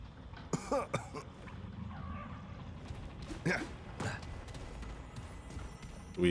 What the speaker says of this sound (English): I'll wait for myself to cough again.